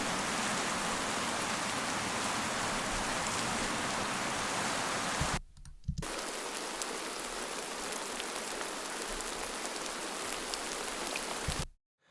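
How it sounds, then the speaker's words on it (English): Steady, dense rainfall hisses broadly and evenly, briefly dropping out for a moment before resuming, then cutting off at the end. "I've got two different rain recordings here."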